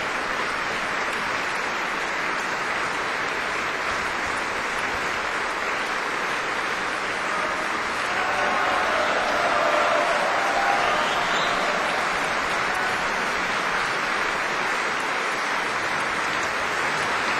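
A standing opera audience gives long, dense, sustained applause after a soprano's mad scene from Thomas's Hamlet at an Amsterdam matinee, a steady roar of many hands that swells slightly midway and continues throughout.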